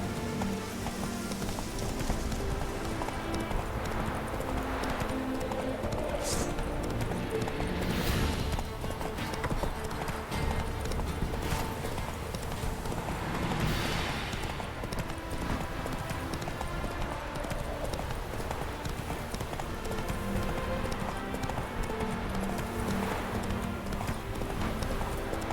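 Roach the horse gallops in The Witcher 3 video game, hooves clip-clopping in a steady, fast, loud rhythm that runs without a break over a dense game soundscape.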